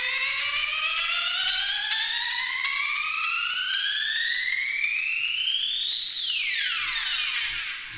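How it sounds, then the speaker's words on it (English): A bright synthetic tone loops faster and faster, pitch climbing steadily into a riser, then sweeps quickly back down near the end. "the simpler will loop the sample faster and faster, creating this riser sound"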